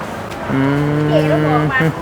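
A cow moos once, a long, loud, steady low call lasting over a second, heard up close at a market with no talk over it.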